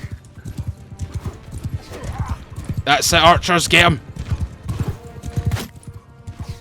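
Cavalry horses gallop in the video game Mount & Blade II: Bannerlord, with rapid rhythmic hoofbeats and a sharp neigh midway, under a man's excited speech.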